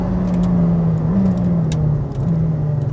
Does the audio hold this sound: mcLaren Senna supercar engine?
yes